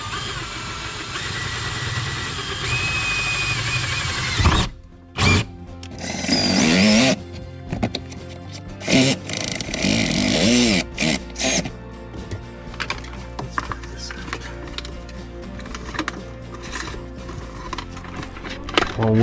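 A power drill whines in loud, stop-start bursts, rising and falling in pitch as it bores holes in a Mercedes GLC/C-Class car, over a steady low engine-like hum.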